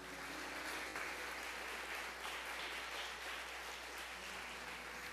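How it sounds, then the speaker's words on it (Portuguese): A church congregation applauding during a worship service, a steady, dense wash of clapping throughout, moderately distant and continuous with no voices on top. "Então aplaude Jesus aí."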